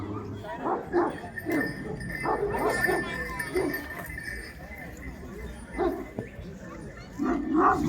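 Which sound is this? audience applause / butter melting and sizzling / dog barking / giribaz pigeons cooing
dog barking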